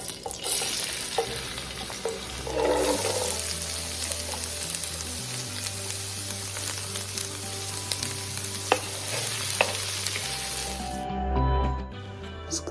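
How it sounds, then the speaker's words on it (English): Onions and garlic sautéing in olive oil in a pan, a loud continuous sizzle with spoon stirring and scraping throughout, close and steady, briefly dropping toward the end, no voices. "Continue to saute the onions and garlic until it becomes translucent or fragrant"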